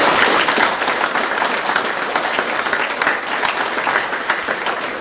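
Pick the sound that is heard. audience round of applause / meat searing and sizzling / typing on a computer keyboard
audience round of applause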